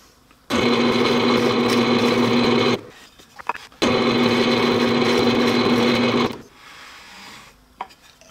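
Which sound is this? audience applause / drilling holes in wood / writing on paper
drilling holes in wood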